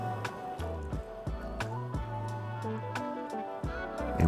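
Flour-and-water slurry is drizzled into boiling braising liquid for oven-braised short ribs while it is stirred, giving soft wet squishes and sloshes with intermittent drips and spoon clicks, close and fairly quiet.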